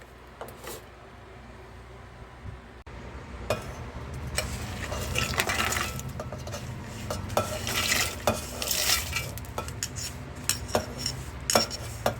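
Spoon scraping and stirring in a metal pan with clinks and a soft sizzle of frying spices underneath, steady and close, growing busier toward the end.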